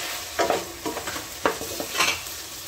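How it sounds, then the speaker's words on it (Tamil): About fifteen garlic cloves frying in a pan for a tomato prawn masala, with several distinct scraping stir strokes over a soft, close sizzle. "அது கூட ஒரு 15 பல்லு போல் பூண்டு ஆட் பண்ணிக்கிறேன்."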